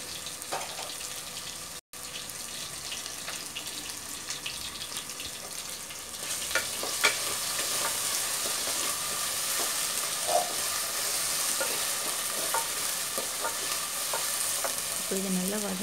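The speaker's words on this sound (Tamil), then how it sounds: "இஞ்சி பூண்டு விழுது பச்சை வாசனை போகிற அளவுக்கு நல்லா வதக்கி விடுங்க" Ginger garlic paste sizzles and crackles steadily while being stirred and sautéed in a pan for carrot rice, a continuous close frying hiss with occasional utensil scrapes.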